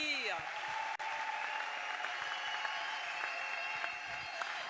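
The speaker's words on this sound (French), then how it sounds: "Est-ce qu'on peut encore les applaudir?" An audience at an award ceremony in Congo, presided over by Félix Tshisekedi, gives sustained applause, a dense wash of clapping that holds steady for several seconds in a large hall.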